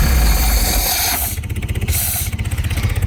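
A Sunbird boat's engine runs loudly with a steady low chug during winterizing, its tone sputtering and roughening as fogging oil stalls it toward the end.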